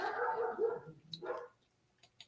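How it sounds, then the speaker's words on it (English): Dogs bark outdoors, faint and at a distance: two short bursts of yapping, then near-silence with a couple of small ticks. "noisy dogs"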